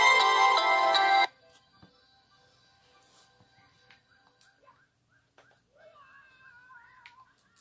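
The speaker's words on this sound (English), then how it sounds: "Sorry about that, that's my phone." A mobile phone ringtone plays loud and close for just over a second, a bright electronic melody that cuts off abruptly, leaving faint clicks and quiet game music.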